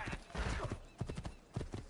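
Hooves of a spotted mare with a white tail clop in Assassin's Creed II, a steady trotting rhythm of repeated thuds, fairly close, with a faint snort or whinny.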